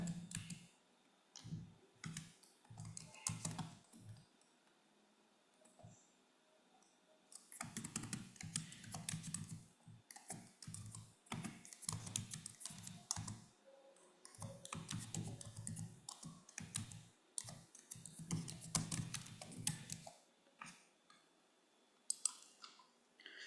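Someone types a short comment on a computer keyboard in quiet bursts of rapid key clicks separated by pauses, with soft, close tapping and no talk.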